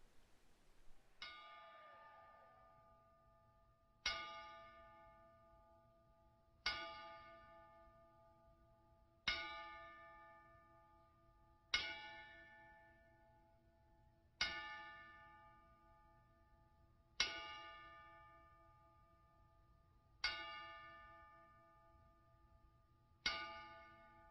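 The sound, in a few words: ten-bell salute tribute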